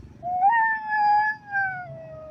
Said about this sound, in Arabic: كلب عمال يعيط وينده على صاحبه